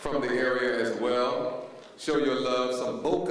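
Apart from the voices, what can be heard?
No everyday noise stands out behind the speech.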